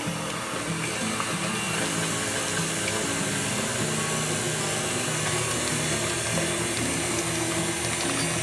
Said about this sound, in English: Mix that for a while, and then we'll scrape down the bowl a couple times in between there.